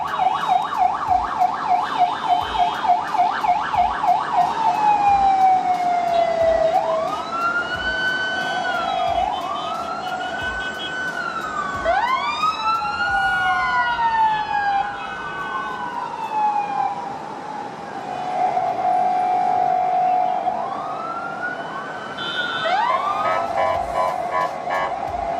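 An ambulance siren wails through narrow Dubai traffic, shifting between rapid yelp bursts and long rising-and-falling wails, fairly close and prominent over a low rumble of road noise, with no talking.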